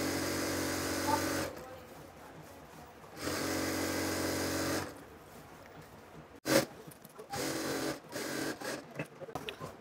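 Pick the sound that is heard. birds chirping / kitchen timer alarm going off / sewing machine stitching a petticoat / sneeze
sewing machine stitching a petticoat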